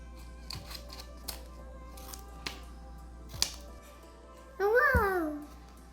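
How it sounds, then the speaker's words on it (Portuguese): A child cuts paper with scissors, producing several sparse, crisp snipping clicks spaced a second or so apart, followed by a burst of a voice near the end. "Vamos tentar recortar com a tesoura, Arthur?"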